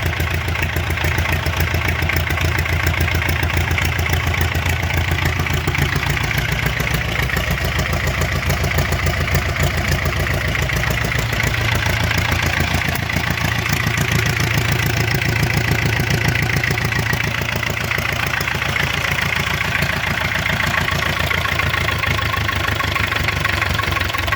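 A small homemade tractor engine runs steadily up close on its first start, without coolant, chugging and knocking loudly without a break the whole time.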